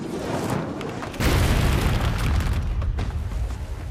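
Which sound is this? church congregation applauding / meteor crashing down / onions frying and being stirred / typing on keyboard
meteor crashing down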